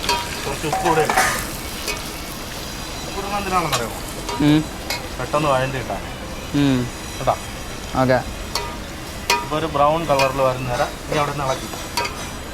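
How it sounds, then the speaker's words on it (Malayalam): Onions frying in a pan are stirred, with a continuous sizzle and scraping under frequent talking from a man nearby. "സവാള ഇട്ടിട്ടുണ്ട് ഓക്കെ ഇപ്പോൾ ഇത് ഇളക്കണം"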